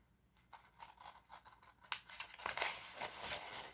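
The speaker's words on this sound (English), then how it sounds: "you slowly close the scissors as you turn the paper." Scissors snip and crunch through paper in a series of quick, close cuts, with rustling as the paper shifts.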